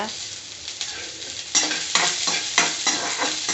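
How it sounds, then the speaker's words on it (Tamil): Onion sautés in a pan for banana-stem soup, a close sizzle broken by rhythmic bursts of spatula stirring and scraping that grow louder after the first second and a half. "நல்லா வதக்கி விட்டுக்கோங்க வெங்காயத்தை"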